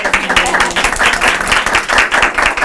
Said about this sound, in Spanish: Aplauso a las 3.